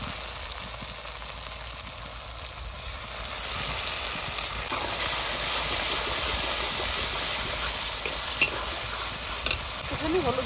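Green chili paste and tomato paste sizzle loudly in a pan of fried ginger and garlic, with a dense hiss that builds midway. Stirring scrapes can be heard close up.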